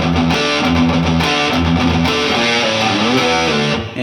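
Distorted electric guitar chugging a riff with heavy power chords and slides along the neck, loud, dense and continuous, with no talking.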